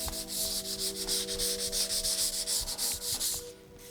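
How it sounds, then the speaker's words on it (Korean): Sandpaper rasps rhythmically over a wooden cutting board in steady back-and-forth strokes, close and loud, with a faint tonal hum underneath. "이렇게 사포질은 마무리가 됩니다"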